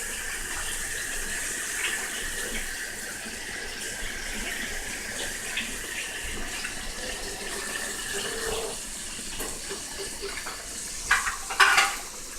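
Chops shallow fry in a pan with a steady, close sizzle throughout. A few sharp clinks and knocks come near the end.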